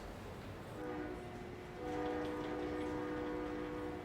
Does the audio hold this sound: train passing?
yes